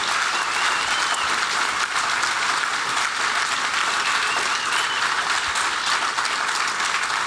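A crowd at a political speech in the Gaithersburg High School auditorium applauds Congressman David Trone with loud, dense, sustained clapping that stays even throughout, with no talking above it.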